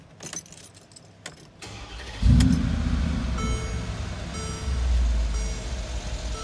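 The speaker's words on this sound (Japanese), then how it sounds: "では、続いてエンジンをかけていきたいと思います。" Keys jangle quietly, then a Mercedes G63 AMG fires up with a loud cranking burst that settles into a deep, rumbling idle, swelling again briefly near the end; no speech.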